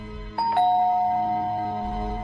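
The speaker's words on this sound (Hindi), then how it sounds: "उनके रूम की घंटी बजी।" Hotel room doorbell rings as a horror story sound effect, giving a clear two-tone ding-dong whose second tone rings on and slowly fades, loud and close with nothing else heard.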